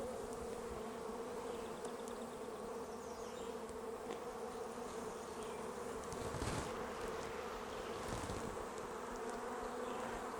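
Honey bees swarm around an open backyard hive three weeks after it was set up, a dense, steady buzzing drone with individual bees flitting close past the microphone, heard faintly and without talk.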